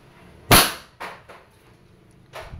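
A Wingun 708 airsoft revolver fires one sharp, loud crack up close, followed by fainter clicks from the mechanism and a softer snap near the end.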